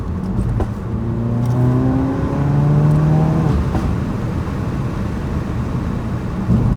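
A tuned Ford Focus RS accelerating in third gear, the engine note climbing steadily through the rev range from inside the car, then settling into a sustained drone.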